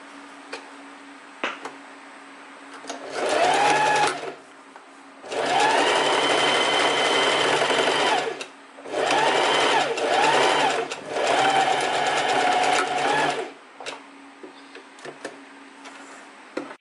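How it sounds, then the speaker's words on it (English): Sewing machine running a straight stitch to close a gap in a gathered maxi skirt: four bursts of steady, rapid mechanical whirring, each lasting a couple of seconds, close and loud, with brief quiet pauses between runs. "we're just going to do a straight stitch from here to here to make sure that the gap is closed"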